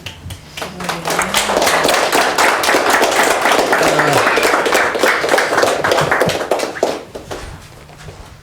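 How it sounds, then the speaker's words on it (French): A crowd claps for a chef's wife at a homecoming gathering, a dense run of hand claps lasting several seconds before tapering off, with voices talking underneath. "On peut l'applaudir, elle est avec nous."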